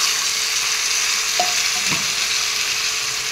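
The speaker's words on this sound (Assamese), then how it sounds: "এনেদৰে সেই তেলতে ভাজি দিলোঁ একেলগে" Vegetables with potato and pumpkin frying together in hot oil in a pan, a steady broadband sizzle throughout with a couple of brief stirring scrapes.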